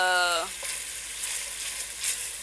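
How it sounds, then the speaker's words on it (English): Onion, garlic and ginger sizzle in a pan for chicken biryani, a steady hiss of frying that continues on its own after a brief, faint voice at the very start. "I cook my onion and garlic."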